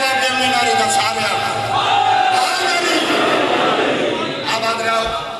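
A large crowd at a majlis gathering shouts a slogan back in unison, a loud, sustained roar of many voices that swells and holds for several seconds.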